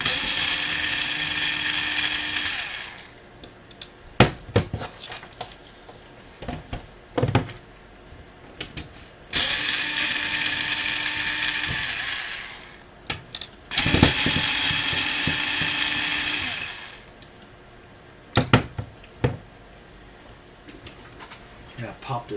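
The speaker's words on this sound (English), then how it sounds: "I'm just going to open this thing up here." A computer ATX power supply case is opened with a power tool, its buzzing whir running in three long bursts, broken by clicks, clatter and the handling of metal parts up close.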